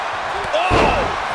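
A heavy thud as a wrestler lands a clubbing blow in WWE 2K23, one close impact over crowd noise and commentary.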